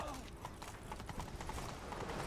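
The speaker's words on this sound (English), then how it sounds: "Grab a horse, we'll chase him down." Horse hooves galloping in The Witcher 3: Wild Hunt video game, a quick, continuous patter of hoofbeats over dense wind and rushing game ambience, moderately loud throughout.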